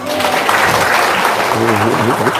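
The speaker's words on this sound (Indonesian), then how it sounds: "Tepuk tangan dulu dong." An audience at a talk on paying off credit cards applauds, with a steady wash of clapping that runs alongside loud talking and voices throughout.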